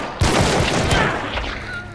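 A LeMat revolver is fired by fanning in the video game Hunt: Showdown, a loud rapid burst of shots blurring into one booming volley that rings out and slowly decays.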